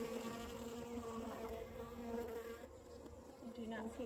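Dense, steady buzzing of many honeybees, a continuous low hum with shifting tones, close and fairly constant throughout.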